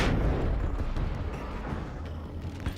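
A grenade blast in the video game Control, a loud booming burst at the start that rumbles and fades over a few seconds.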